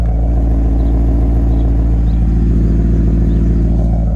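Exhaust rumble of a 2016 Maserati GranTurismo Convertible Sport with a 4.7 liter V8 and dual exhaust, a loud steady deep burble heard close and continuous without speech.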